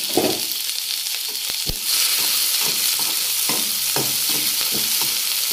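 Green chillies and onion hit a hot pan and the frying jumps to a loud, steady hiss, punctuated by several stirring scrapes and taps, with no voices.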